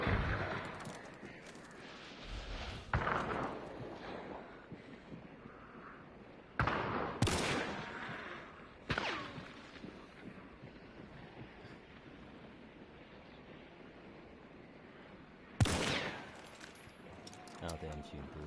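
Gunshots crack intermittently in the online shooter Hunt: Showdown 1896, several loud sharp reports spaced seconds apart over a quieter rumbling background, with someone talking faintly at times.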